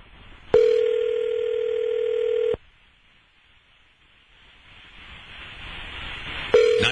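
A telephone rings unanswered on a live radio call-in line. Two long, steady electronic ring tones sound a few seconds apart, with soft line hiss in the gap between them.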